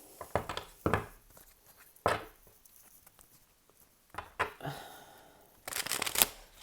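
A Modern Witch Tarot deck being shuffled by hand, several bursts of riffling and flicking cards close up, separated by short pauses and ending in a busier flurry.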